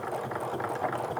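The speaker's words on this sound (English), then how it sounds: "sew all the way to the end, and then again reinforce those stitches" Sewing machine running continuously while stitching a canvas apron to the end of a seam, a steady close mechanical whir with faint rhythmic rattling and no talking.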